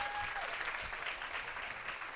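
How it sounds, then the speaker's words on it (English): Steady round of audience applause at a real estate wealth-building event, a dense even wash of many hands clapping, fairly quiet and distant throughout. "let's give them a round of applause one more time."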